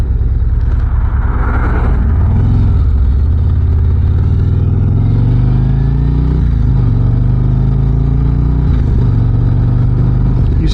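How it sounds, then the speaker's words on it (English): A 2025 Harley-Davidson Street Glide Ultra with a Milwaukee-Eight engine underway, its loud, close engine drone running steadily with slowly rising pitch and a rush of wind, with no voices. "These new generation Milwaukee 8s are just phenomenal motors."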